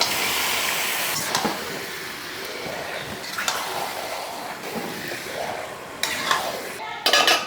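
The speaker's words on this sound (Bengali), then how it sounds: "মাংসটা মেরিনেট হয়ে গেছে এখন ঢেলে দিচ্ছি" Marinated duck meat tipped into a cooking pot and stirred, with a continuous scraping, sloshing rustle, scattered clanks of utensil on metal, and a louder clatter near the end.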